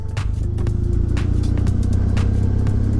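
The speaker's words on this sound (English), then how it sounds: "Some rally cars over there, look." Rally car engines drone and rev in the distance, a continuous rumbling roar with occasional rising bursts.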